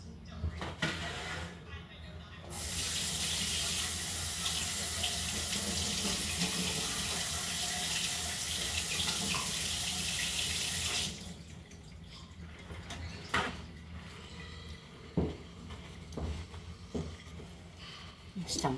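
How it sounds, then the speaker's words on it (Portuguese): A kitchen tap runs steadily for about eight seconds as hands are washed at the sink, a loud continuous hiss of water, then stops, leaving drips, clatter and someone speaking nearby. "Deixa-me lavar aqui as mãos."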